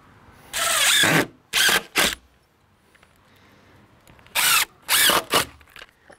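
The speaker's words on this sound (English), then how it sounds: "Now I'm screwing at these two different points here." A power drill drives screws into deck boards during deck construction, heard as loud, close whining bursts: one long run, two short ones, a quiet pause, then three more quick bursts.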